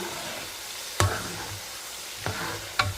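Garlic fries in a pan over medium heat with a soft, steady sizzle, broken by three sharp knocks or stirring taps against the pan, close and fairly quiet with no talk.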